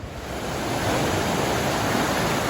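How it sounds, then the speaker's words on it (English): The Chewuch River rushes past close by in the Pasayten Wilderness, a loud, steady, broadband roar of fast water with no breaks and no voices. "Thankfully we don't have to ford this river because we wouldn't even try."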